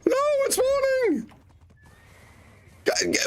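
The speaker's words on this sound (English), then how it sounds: "Right, horsey!" A horse whinnies loudly and close in a video game, a rising then falling neigh that trails off, followed by quiet background and the start of another sound at the end.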